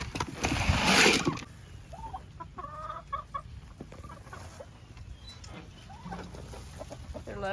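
Backyard chickens cluck and squawk while pecking at cucumbers, with short repeated clucks at close range and a louder burst of noise at the start.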